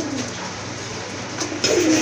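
Pigeons in a seller's loft give soft, low cooing calls, a faint murmur through the first half and then a louder, nearer coo near the end over a steady background.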